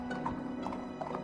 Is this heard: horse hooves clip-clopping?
yes